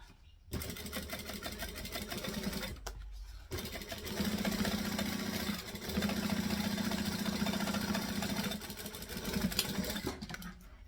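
A sewing machine re-stitches along the original stitches of a zipper pocket in a bag, running in steady mechanical bursts with brief pauses between runs, loud and close.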